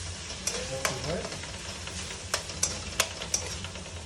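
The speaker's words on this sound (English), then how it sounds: "Now I'll put this crushed chili with shallots fully into it and saute it for a little while." Crushed chili and shallots sauteing in a pan for chicken kondattam, a soft continuous sizzle with several sharp scraping clicks of a spatula against the pan, quiet and close.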